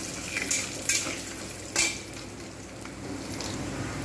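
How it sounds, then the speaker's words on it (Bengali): Peanuts fried in a pan and stirred with a utensil: a soft background sizzle with a few distinct metallic scrapes and clinks in the first half, then quieter steady frying. "ভালোভাবে একদম পুরো বাদামটাকে ভেজে নেবে"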